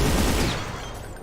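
A gunshot in the Brutal Doom video game: a single loud, close blast at the start that quickly decays into a fading rumble, with no talk.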